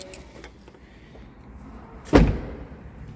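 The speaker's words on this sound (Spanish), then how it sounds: "Y vamos a cerrar la puerta." The door of a Hummer H3 swings shut with a single solid thump, heard nearby after a quiet stretch of faint interior ticking and hum.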